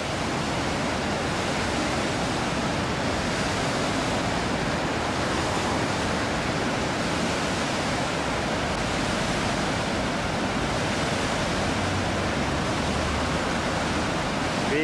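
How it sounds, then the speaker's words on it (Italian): Hønefoss waterfall in Norway roars in a dense, steady rush of water, loud and unbroken throughout, with no voices. "qui ci sono le cascate di Hennefoss"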